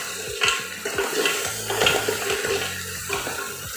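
Water pours from a mug into a pot of mutton paya curry with onion and tomato, a steady splashing flow with a few clinks of the vessel, close and clear with no talk.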